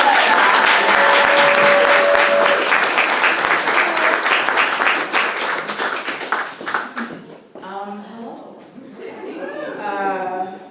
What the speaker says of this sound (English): So extra applause for Beatrice